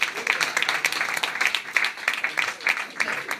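Audience applauding and clapping in a room at a live talk event, a dense run of sharp claps at a steady rhythm, moderately loud and continuous across the clip.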